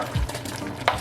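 Plantain being stirred into a Jamaican Ital stew peas pot, a short close burst of thick stirring with a low thud and a scrape over a soft bubbling simmer.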